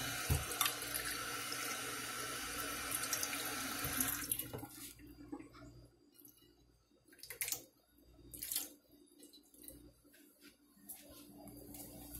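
Tap water runs hard and steady for about four seconds, then cuts off, leaving a quiet room with a few faint knocks and shuffles.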